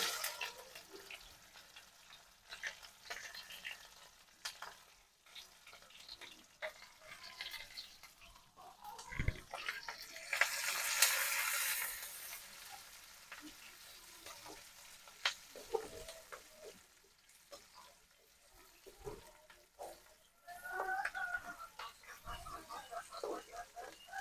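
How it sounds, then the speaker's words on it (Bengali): Onion and green chili frying in oil with cumin seeds, a steady sizzle with intermittent stirring and scraping, including a louder burst of hissing midway, while a person talks over much of it. "এবার এই তেলের মধ্যে দিয়ে দেবো পেঁয়াজ আর কাঁচামরিচ।"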